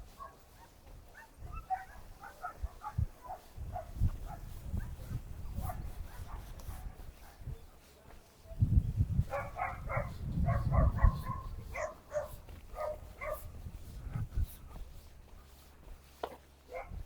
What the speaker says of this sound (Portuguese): Também essa época a praia fica cheinha de cachorro.